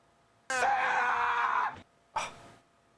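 A scream alert fires on a live stream: a sustained shrill scream runs a little over a second, then a brief second cry follows after a short pause, loud and alone with no talk.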